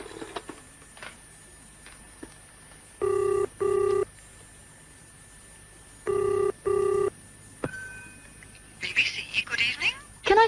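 A British telephone rings twice in double-burst pairs, clear and fairly close, in a BBC radio drama scene. Quieter studio ambience fills the gaps, and voices and movement rise near the end.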